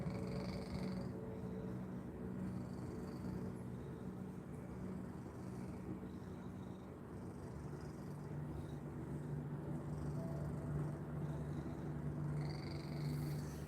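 A pet cat purrs in a steady, low, continuous rumble close by, with faint background hum and no talking.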